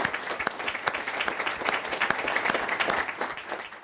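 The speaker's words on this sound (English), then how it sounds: "I'm sure you'll join me in thanking them with a round of applause." Audience applause for a business panel discussion at a talk event, a steady round of clapping with sharp individual claps standing out, moderately loud with no talk over it.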